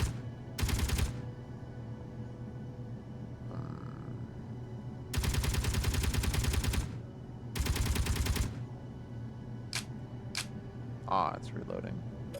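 Gunfire from Space Engineers comes in three sharp, loud sustained bursts, the middle one longest, separated by a quiet low hum, followed by a few brief clicks and a short grunt-like sound.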